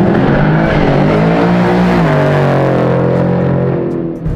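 Big block V8 of roughly 1,000 horsepower in a Jaguar sedan drag car revving hard and steadily, a loud, close, continuous roar with rising and falling pitch, running on the motor alone without nitrous.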